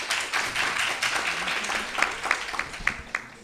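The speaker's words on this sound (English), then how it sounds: "Clap them now." Debate audience applauding the government-side team, a dense broadband patter of many hands that thins toward the end into a few louder, separate claps.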